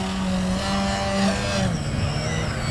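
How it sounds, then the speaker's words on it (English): An RC model airplane engine on a Harrier flying through rolling 3D maneuvers, its throttle blipped up and down so the buzzing pitch rises and falls in quick changes, steady and moderately loud throughout. "you can hear there's a lot of throttle blipping going on"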